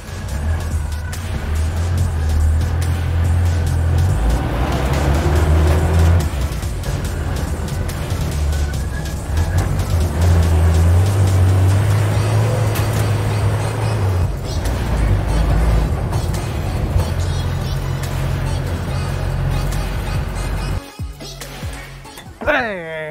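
A Toyota FJ40 expedition off-road vehicle accelerates with a steady low engine drone that rises and holds, rumbling loudly throughout before easing off near the end, with voices talking over it.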